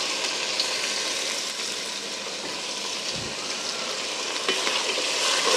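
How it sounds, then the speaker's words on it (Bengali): Malabar spinach and potatoes sauté in a pan, giving a loud, continuous close sizzle with faint stirring scrapes throughout. "একটু কষিয়ে নেব"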